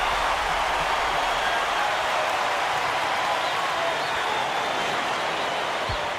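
A College Basketball 2K8 video game arena crowd roars and cheers in a steady, dense wall of noise that holds at an even level throughout.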